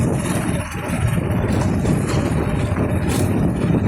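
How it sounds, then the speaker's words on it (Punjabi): A motorcycle ridden by a boy who is just learning, its engine a steady, fairly loud drone with road noise and no breaks throughout. "ਨਵਾਂ ਨਵਾਂ ਮੋਟਰਸਾਈਕਲ ਸਿੱਖੀ ਜਾਂਦਾ ਮੁੰਡਾ"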